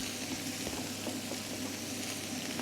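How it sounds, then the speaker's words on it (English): Rice tipped into a hot wok over browned egg for Chinese takeaway chicken fried rice, giving a steady, dense frying sizzle with faint scraping ticks throughout, close and even. "When your egg's browned off, we're going to add in our rice."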